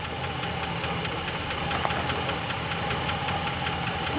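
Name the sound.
car engine idling with noisy lifter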